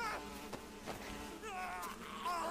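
Bees or hornets buzz in the stealth video game Metal Gear Solid 3: Snake Eater. The droning is steady and close, with wavering, whining pitch changes throughout.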